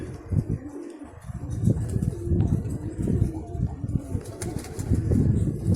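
Three pigeons flap their wings in bursts and settle nearby, with soft cooing and wind noise in the background.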